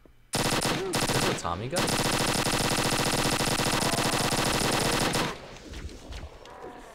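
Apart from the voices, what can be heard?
chain gun firing in video game Halo Custom Edition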